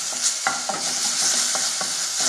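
Chopped seasoning and cherry tomatoes for polenta sauce sizzle in a hot pan while being stirred, with scraping spoon strokes over a bright crackling hiss.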